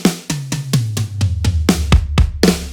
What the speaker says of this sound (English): this is the dry sound. This is a black vinyl kit.